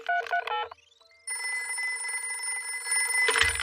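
In a Hindi-dubbed Peppa Pig cartoon, a telephone call is placed. After a brief voice and a short pause, steady electronic phone tones ring out, growing slightly louder near the end.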